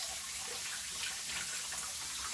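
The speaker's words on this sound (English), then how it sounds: "Now it tells you to wash my hands off real quick now that I've got that part done." Tap water runs steadily into a sink as hands are rinsed under it, a continuous soft hiss and splash at moderate-low level with no voices.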